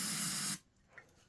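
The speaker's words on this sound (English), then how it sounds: "little carb spray" Carburetor cleaner sprayed into the carb of a barn-find Magnum engine, a loud steady hiss for about half a second that cuts off abruptly, followed by faint quiet handling noise.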